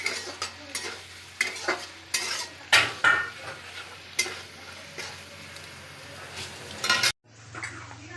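Garam masala powder is stirred into a dish in a frying pan, with repeated scraping strokes of a utensil against the pan over a soft sizzle. A sharp clack comes near the end.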